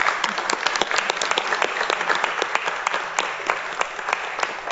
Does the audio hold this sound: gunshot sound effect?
no